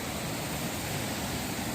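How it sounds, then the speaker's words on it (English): Waterfall on the Appalachian Trail among steep moss-covered hills, a steady, even rush of falling water heard at a moderate distance with no other sounds. "More waterfalls."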